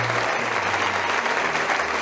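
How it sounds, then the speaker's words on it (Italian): An audience at a dance awards event applauds young dancers with steady, dense clapping throughout, a full crowd sound over a low background hum. "Viviana, un applauso anche a tutti questi ragazzi, questi bambini, queste bambine."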